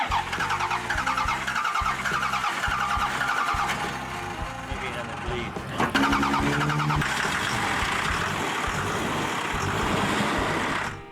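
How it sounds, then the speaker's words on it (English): A diesel truck that was chain-towed in winter cranks and fires up, a rhythmic starter churn giving way to a loud, rough idle; voices talk over it close by. "now he's got some diesel and he's going to fire it up"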